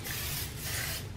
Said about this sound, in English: Just spraying my pan with that.